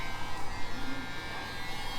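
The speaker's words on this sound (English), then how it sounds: "Got the heat gun going." A heat gun runs with a continuous airy buzzing hum, steady and fairly close, used to heat a part while fixing the flickering light of a Kenmore or Whirlpool refrigerator.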